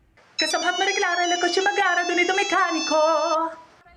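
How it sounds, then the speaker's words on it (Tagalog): A bright, electronic ringtone melody plays alone, tonal and steady for a few seconds before cutting off. "Pero paano naman daw kung gawin itong ringtone?"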